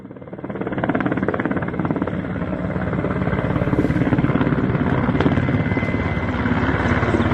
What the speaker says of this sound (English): Helicopters used to try to extinguish the fire that covers 2 acres.